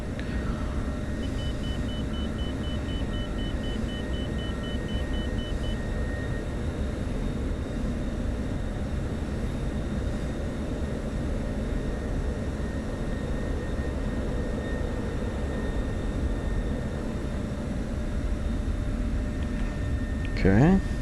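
F-16 jet engine idling at low throttle in the DCS flight simulator, a steady broadband rumble and faint whine held continuously and fairly loud throughout, with a brief bump near the end.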